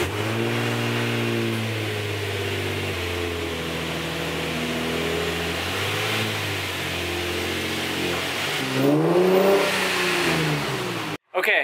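A Nissan 350Z with its stock intake manifold is strapped onto a dyno. The engine is loud and close as it climbs and falls through several revs, then surges hard near the end before cutting off abruptly.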